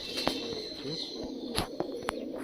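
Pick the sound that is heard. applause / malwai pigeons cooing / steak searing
malwai pigeons cooing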